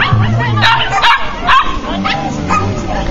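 A dog yips and barks repeatedly at an agility competition, mixed into a busy outdoor soundscape with a commentator talking over it.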